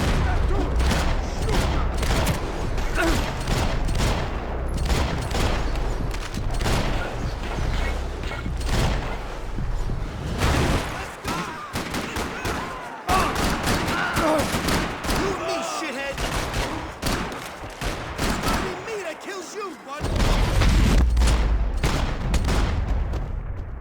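Gunfire and combat in the video game Max Payne 3: dense, continuous loud bursts of shots and mechanical clatter fill the scene, with occasional voices mixed in beneath the barrage.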